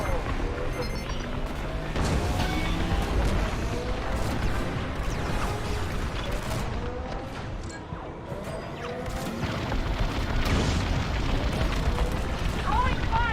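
An explosion destroying a hangar in the Star Wars: Squadrons video game, a dense, loud rumbling blast with crashing debris that runs for several seconds, heavy and sustained amid layered game effects.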